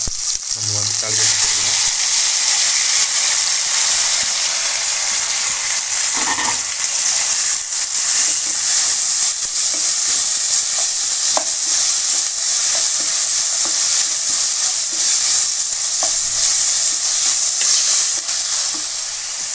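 Loud, steady sizzling of onions and tomatoes frying in a pan, a dense continuous hiss with occasional stirring scrapes.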